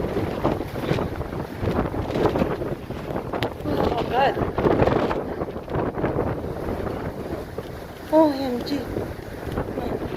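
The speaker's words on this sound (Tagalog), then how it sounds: "Tinutulak na ako ng hangin." Strong Typhoon Kompasu wind roars steadily against the microphone outdoors during a signal #8 storm, a continuous buffeting rush with gusts, while a person exclaims in alarm over it.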